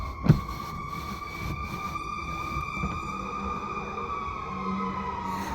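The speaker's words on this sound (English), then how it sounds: "Y'all hear the sirens?" A long wailing siren drifts slowly downward in pitch, steady and moderately distant, with a brief knock near the start and a low rumble underneath.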